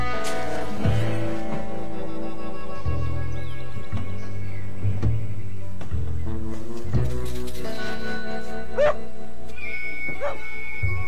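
A dog that has just been sprayed by a skunk barks in repeated sharp yelps and whimpers, loud and close, with short pauses between bursts.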